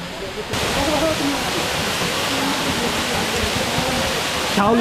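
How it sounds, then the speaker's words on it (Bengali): A waterfall at Sajek Valley, where people are bathing, rushes in a steady, loud broadband roar that fills the whole clip, with faint voices barely audible underneath. "এই হচ্ছে সেই ঝর্ণাটা"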